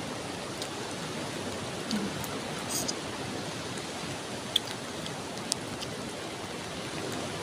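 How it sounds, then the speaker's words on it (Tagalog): Rain falls on a beach as a steady, soft hiss of drops, with a few faint clicks and knocks breaking through. "Umuulan."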